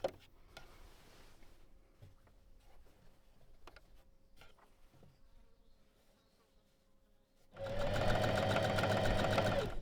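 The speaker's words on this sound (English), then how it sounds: "When you reach a shoulder seam, sew right up to it, stop with the needle down, lift the presser foot" Sewing machine stitching a robe seam, a loud steady mechanical whir that starts abruptly after a stretch of quiet handling noises and runs on close up.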